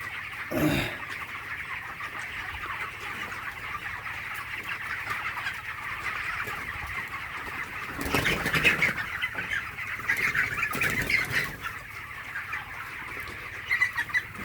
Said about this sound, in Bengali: মুরগি বেশ ভালো আছে, সুস্থ আছে।